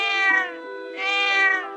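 A cat meows twice in close succession, each call drawn out and tonal, near and clear with no other sounds around it.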